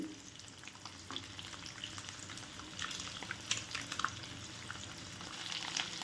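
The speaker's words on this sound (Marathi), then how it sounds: "लो फ्लेमवरच हे भाजायची आहेत अंडी" Eggs fry gently in oil over a low flame, a soft, faint crackling sizzle with scattered tiny pops and bubbling, steady throughout and with no voices.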